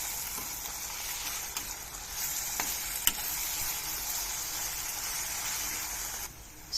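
Masala paste sizzling steadily in a hot pan with half-fried onions, stirred now and then, a continuous close frying hiss for a stuffed brinjal curry.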